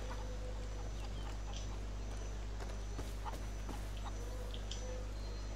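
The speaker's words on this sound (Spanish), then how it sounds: "Una gallina." A chicken clucks in a farm garden in Far Cry New Dawn, soft intermittent clucks and scuffling steps over a constant low game hum, moderately close and fairly quiet.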